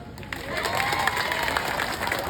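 An audience at a political rally in Antipolo claps and cheers, with dense, sustained applause and crowd noise filling the whole stretch.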